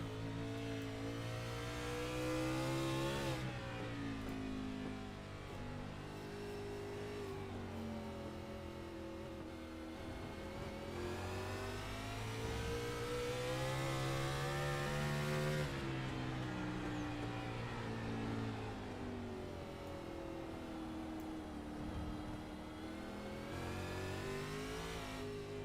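A race car in an online sim race at Charlotte Roval revs and accelerates through repeated gear changes, the engine note climbing, dropping at each shift and climbing again, loud and continuous for the whole stretch.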